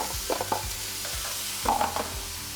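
Abbot's Butcher plant-based chorizo with onions and mushrooms cooks in a buttered pan over medium-high heat, a steady sizzle with scattered scrapes and knocks of stirring, no talk.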